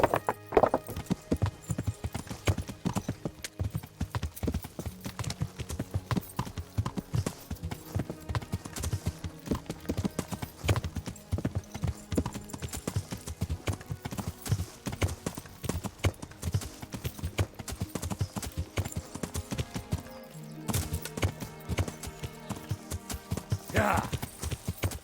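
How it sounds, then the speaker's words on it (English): Horse hooves clip-clop at a steady riding rhythm in the medieval game Kingdom Come: Deliverance, continuing for the whole stretch with a brief pause near the end, plus an occasional whinny. "Learn how to ride a horse"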